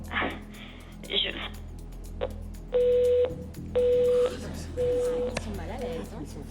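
Telephone call with dialing tones and repeated ringback beeps, steady and clear, in a French office setting, with people talking between and over the tones.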